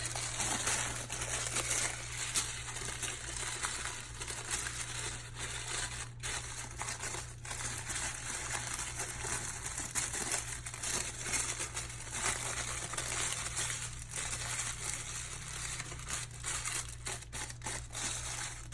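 Tissue paper folded accordion-style and scrunched into a rose, giving soft, continuous crinkling and rustling close by, with occasional sharper crackles over a faint steady hum and no speech.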